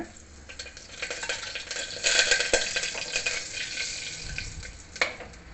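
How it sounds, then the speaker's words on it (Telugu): Asafoetida, mustard seeds and cumin sizzling in hot oil for tempering, a crackling fry that swells midway, with stirring, scraping and a sharp clink of a utensil on the pan. "నేను ముందే వేసేస్తున్నాను ఇంగువ ఆవాలు జీలకర్ర"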